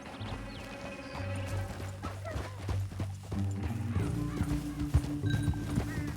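Hooves clatter in a quick, uneven galloping rhythm in the video game Red Dead Redemption 2, close and fairly loud, with a horse whinnying and a low droning score beneath.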